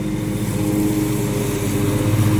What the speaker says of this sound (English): He doesn't like mowing over them.